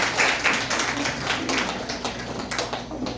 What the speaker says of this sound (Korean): 여러분 큰 박수로 참여드겠습니다